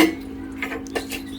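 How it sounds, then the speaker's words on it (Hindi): Dishes, pots and utensils being washed by hand at home, with scattered soft clinks and knocks of metal and crockery over running background noise, fairly close, no talking. "मैंने बर्तन धोने थे तो बर्तन धो रही हूँ"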